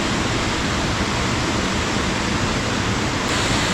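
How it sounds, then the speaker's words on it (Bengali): A waterfall at Mohamaya Lake in Mirsharai, Bangladesh, roars with heavy water flow, a loud, steady broadband rush that fills the whole stretch without pause. "ঝর্ণা, ঝর্ণা,"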